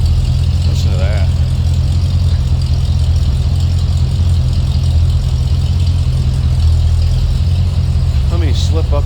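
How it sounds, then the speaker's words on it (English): A 1949 International KB2 truck with a V8 idles steadily and loudly close by, a deep continuous rumble with faint outdoor background and no talk over it. "Nice sounding truck. V8 underneath the hood."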